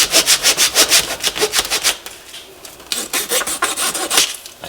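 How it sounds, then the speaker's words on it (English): A small wooden dowel is sawn through by hand to cut off a short piece for a door chime tube hanger, giving close, loud, rhythmic rasping strokes that slow and loosen toward the end. "So we'll go ahead and cut off our little piece."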